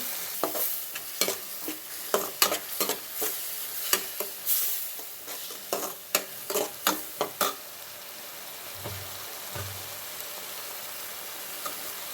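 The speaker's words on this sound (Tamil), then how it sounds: "நல்லா எண்ணெய் பிரிஞ்சு வர அளவுக்கு நல்லா வதக்கிக்குவோம்." Masala stirred and sautéed in hot oil for a quail gravy, the spoon scraping the pan in irregular loud strokes over a steady sizzle, with a quieter stretch near the end.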